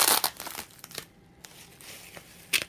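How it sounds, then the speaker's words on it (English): Packaging around a Sebo Dart vacuum cleaner is cut open, giving close bursts of crinkling and tearing plastic or cardboard with uneven pauses between them and no speech. "Cut this open."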